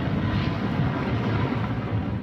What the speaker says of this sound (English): A couple of helicopters operated by the Taliban, ferrying in people and supplies and taking the casualties out.